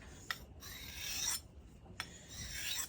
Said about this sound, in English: But this is how I go about sharpening a knife.